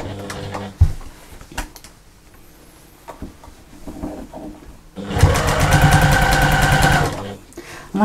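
A sewing machine stitches a bag's lining and outer layers together, with short bursts early on and then a sustained loud, rapid run of stitching in the second half, and someone speaking quietly in between.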